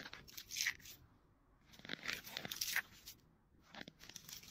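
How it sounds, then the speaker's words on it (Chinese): Fresh coriander leaves frozen stiff after thirty seconds outdoors at about -40°C in Mohe, crushed by hand into brittle, crackling crunches in three short bursts, close and fairly quiet. "叶子已经嘎嘣脆"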